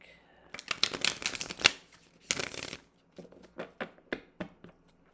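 Oracle cards are riffled and shuffled up close, a couple of quick bursts followed by lighter taps and flicks as the deck is squared.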